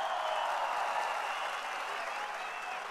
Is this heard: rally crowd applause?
yes